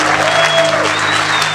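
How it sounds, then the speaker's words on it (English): A crowd at a motivational speaking event bursts into loud, sustained applause for a speaker being introduced, dense clapping filling the room with faint voices mixed in. "Let's get on your feet for the man, Keith Kalfas!"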